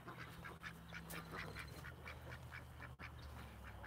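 Ducks being herded in for the night at dusk, quacking in a faint, steady run of short calls from a distance over a low background hum.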